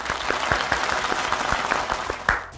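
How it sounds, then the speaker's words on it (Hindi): Studio audience applause welcoming a bishop onto a Christian television program, sustained dense clapping throughout with a slight swell near the end. "आपकी तालियों में तशरीफ लाते हैं"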